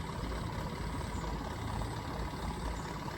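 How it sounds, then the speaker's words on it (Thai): A truck carrying twelve house poles rumbles in with a steady low diesel drone and broad road noise, sustained and moderately close with no clear pauses. "มาแล้วค่ะรถเสาด้วยรถส่งหินด้วยนะคะ"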